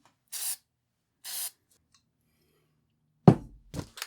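Two short, sharp hissing bursts of spray primer coat an aluminum casting from a vintage carnival ride, followed by a few close, hollow thunks and knocks.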